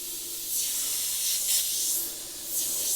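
Iwata HP.TH spray gun with its MAC valve wound in for a finer pattern, spraying paint in a steady close airy hiss that swells in a few soft pulses.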